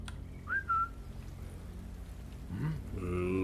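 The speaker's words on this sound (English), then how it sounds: "what we can do, I think, is we could whistle" A player character in Sniper Elite 5 gives a short two-note whistle to lure an enemy, followed by a lower sliding whistle, quiet against soft ambient rain-like background.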